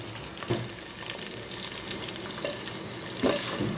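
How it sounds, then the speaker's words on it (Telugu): Spices, cashews, green chillies, onion and tomato frying in oil for chicken dum biryani, a steady close sizzle with a few soft stirring knocks and no talking. "ఇప్పుడు మనం తీసుకున్న మసాలా సామాన్ని ఆయిల్లో వేయాలి."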